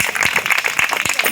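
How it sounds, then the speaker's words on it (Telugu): A church congregation claps together after a psalm reading, a brief burst of dense, steady applause with many overlapping hand claps at moderate loudness and no talking. "క్లాప్స్"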